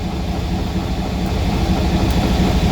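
A diesel-electric locomotive engine running just after starting, a loud, steady low rumble throughout with no voices.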